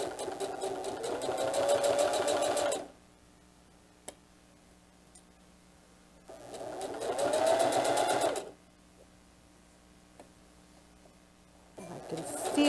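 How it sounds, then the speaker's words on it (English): A sewing machine stitches a diaper bag tote seam in two steady runs of rapid ticking, each a few seconds long, separated by quiet pauses, with a third run just starting at the end; close and alone. "And I'm going to sew just on this side of the line that the seam made"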